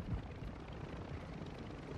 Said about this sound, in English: Isaac, go in the helicopter. Go in the helicopter